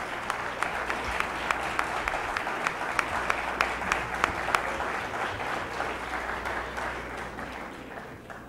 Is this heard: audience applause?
yes